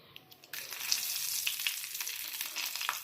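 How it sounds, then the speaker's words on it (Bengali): Whole garam masala hitting hot mustard oil before an egg korma, as a quiet start jumps into a loud, crackling sizzle that carries on steadily with small pops. "এবার গোটা গরম মশলা ফোড়ন দেবো"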